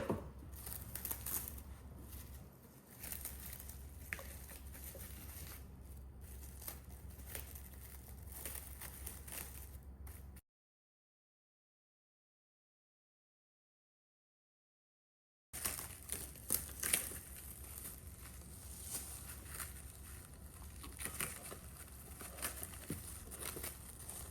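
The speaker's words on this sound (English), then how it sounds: "I like to cover them with plastic wrap instead of towel" Plastic wrap crinkles and rustles while being stretched over honey sesame bread rolls coated in sugar and sesame, a steady close crackling texture broken by a stretch of silence, then resuming.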